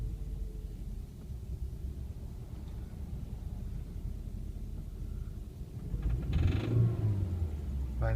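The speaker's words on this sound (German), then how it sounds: "Ich muss erstmal ein bisschen aufs Gas drücken." A BMW E36 engine with a rattling fault idles roughly up close in a low, uneven rumble, then gets a short blip of throttle near the end that swells louder before dropping back.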